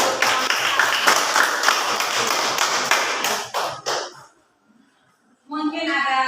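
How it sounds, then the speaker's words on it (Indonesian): A class claps for a student group, a dense burst of applause from many hands that thins into a few scattered claps and stops, followed by a short pause and then a voice speaking. "Ya, berikan tepuk tangan untuk"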